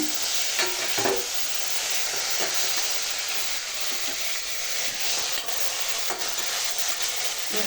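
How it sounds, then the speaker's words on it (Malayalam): Beef sautéing in a pan gives a steady, dense sizzle, with scattered scrapes and stirring clicks throughout. "നന്നായിട്ട് ബീഫിട്ട് വഴറ്റുവാണേ."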